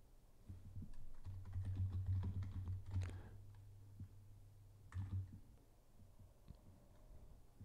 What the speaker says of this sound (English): So the keyboard does work.